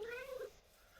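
A Minecraft cat gives a single short, faint meow that quickly fades into quiet background.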